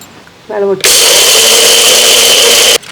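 A mixer grinder whirs loudly at full speed, grinding roasted spices into powder for puliyotharai. It starts abruptly after a brief voice, runs as a steady, harsh, close drone for about two seconds and stops sharply.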